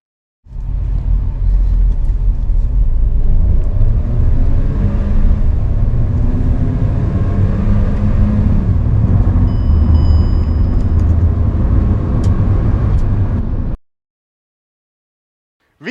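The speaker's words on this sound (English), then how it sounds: "We'll put this car through the acceleration test in eco mode, normal mode and sport mode." A 2024 Hyundai i20 N-Line DCT engine roars under hard acceleration for about thirteen seconds. The loud, close rumble rises steadily, then cuts off abruptly into silence.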